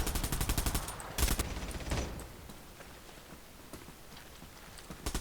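Shotgun gunfire in the game Bullet Run, a rapid burst of loud repeated shots at the start, then a few isolated sharp reports over a quieter background.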